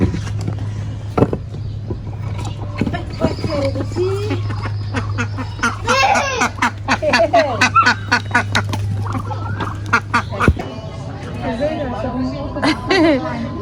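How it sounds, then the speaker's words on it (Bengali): Ducks and geese quack and honk in a noisy, overlapping chorus, with a steady low hum and people talking in the background. "হাসে ডাকাডাকি শুরু করে দিছে"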